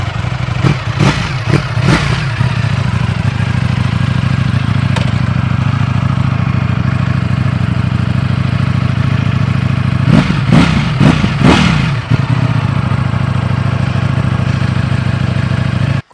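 A Ducati Streetfighter motorcycle with its stock homologated exhaust idles loudly and steadily up close, with a few sharp throttle blips early on and another quick cluster of revs later.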